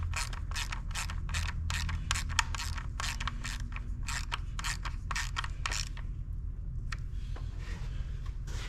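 A ratchet clicks in rapid bursts of repeated strokes while tightening a part on a car engine, a steady low hum running underneath, with the clicking thinning out toward the end.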